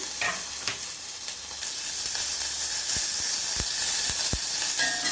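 Onions with garlic and green chilli sizzle and hiss steadily in hot oil, with a few sharp taps of a utensil stirring the pan near the end.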